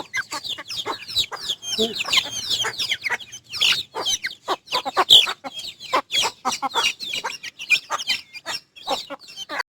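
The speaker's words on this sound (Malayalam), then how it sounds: "മുള്ളം കോഴികളൊക്കെ കൊടുന്നിട്ടുണ്ട് രണ്ടെണ്ണം" Two Mullam chickens cluck in rapid, busy bursts close by, their calls tumbling over one another almost without pause, fairly loud and clear.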